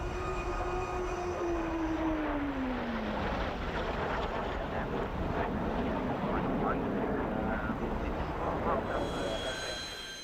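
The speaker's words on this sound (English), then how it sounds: "the Hunter is the unique sound of the Rolls-Royce Avon engine" Hawker Hunter jet with its Rolls-Royce Avon engine and long jet pipe roaring loudly at an airshow, a continuous heavy jet rumble with a descending whine as it passes close by, under commentary.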